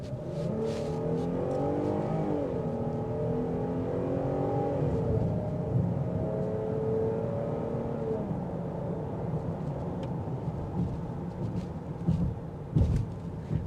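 A 2025 Jeep Grand Cherokee L Summit's engine accelerates on a test drive, a steady loud rising drone with climbing tones heard from inside the cabin, sustained throughout with a brief thump near the end.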